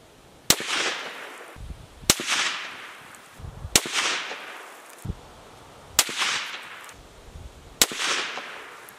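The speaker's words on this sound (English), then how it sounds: "fired another 5-round group at 100 yards" Five suppressed rifle shots fired at a 100-yard target, each a sharp loud crack followed by a brief decaying echo, spaced roughly one and a half seconds apart with no talking.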